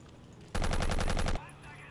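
A rapid automatic burst of gunfire in Battlefield 1942 rattles off about a dozen evenly spaced shots, loud and close, then stops, with quiet game ambience before and after.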